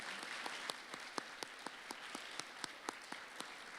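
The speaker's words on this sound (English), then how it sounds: "please give another round of applause for Karen for that wonderful presentation" A conference audience gives a round of applause after a presentation, a soft, distant wash of many hands with a few sharper individual claps standing out at a fairly regular pace, fading low.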